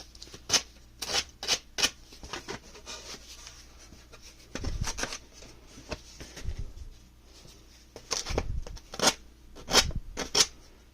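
Sandpaper rubbing over the wood of a mandocello in a workshop, a series of short, close scratchy strokes in uneven bursts with brief pauses between, no talking.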